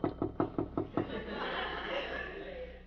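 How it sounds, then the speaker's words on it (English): Five quick knocks rap on a door in a steady rhythm, close and fairly loud, followed by a muffled murmur of voices or chuckling in a room. "Should I ring or should I just knock intimately?"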